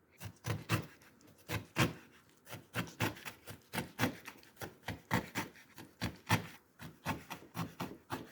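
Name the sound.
knife finely chopping ripe kimchi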